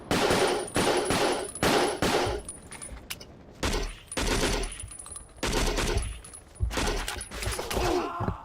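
Machine guns fire in the video game Battlefield Vietnam, in loud, dense bursts of rapid shots separated by short pauses, with the gunfire filling the whole stretch.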